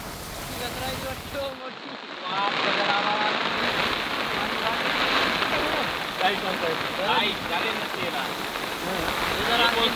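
Steady heavy monsoon rain in Hingoli hisses and patters continuously on a surface, dense and close throughout, with a brief dip early on.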